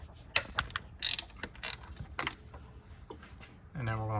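A ratchet working a 10mm ground bolt loose on a Ford Fiesta during transmission removal, quick faint clicks and metallic knocks in uneven bursts, with a low mechanical hum rising near the end.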